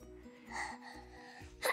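A single sharp sneeze bursts out near the end, after a stretch of faint, muffled background murmur.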